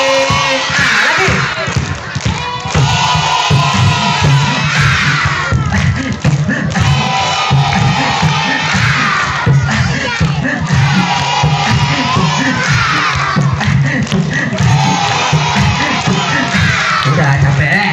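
A crowd of schoolchildren clap in quick rhythmic bursts while shouting and cheering loudly together, the noisy chant rising and falling in waves without pause throughout.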